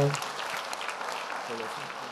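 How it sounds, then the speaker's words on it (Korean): Crowd applause at a church gathering, a dense patter of many hands clapping steadily throughout, with a few voices audible underneath. "큰 박수로 하나님께 영광 돌립니다."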